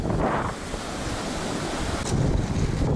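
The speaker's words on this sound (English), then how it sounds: "It's like 40, at least 40-mile-an-hour winds." Strong wind of about 40 miles an hour roars across the microphone on a Great Lakes shore, mixed with a constant wash of surf, loud and close, with no talking.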